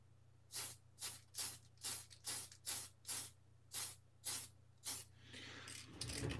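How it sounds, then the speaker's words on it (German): Tamiya TS80 semi-gloss spray paint from an aerosol can is misted onto a plastic model seat in about ten short, evenly spaced hissing bursts, close and clear, with a steady low hum beneath and a brief handling rustle at the end. "TS80, das ist eine Sprühfarbe, das ist sogenanntes Seidenmatt ist das und das ist eine Kunstharzfarbe"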